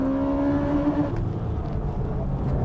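A Nismo GTR and a Porsche 996 Turbo racing, one engine holding a steady high drone as it accelerates, then fading into loud broadband road and wind roar.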